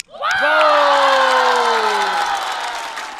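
A studio audience at a Chinese stand-up comedy show breaks into loud, close cheering, whooping and applause that swells quickly and holds, with a strong sustained shout riding over the clapping before it gradually eases.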